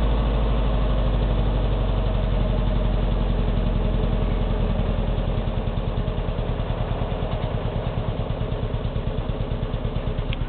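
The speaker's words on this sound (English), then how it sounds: "Now it's idling." A truck engine settling from a fast idle down to a normal idle, a close, steady rumble whose firing pulses slow and grow more distinct toward the end, with no talking.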